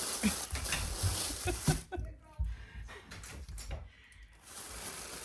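A door opens and shuts with a few knocks and scrapes, followed by quieter room noise and another door movement.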